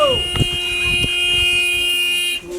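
A vehicle horn blares in one long, steady, loud tone, with faint thumps and murmuring in the background.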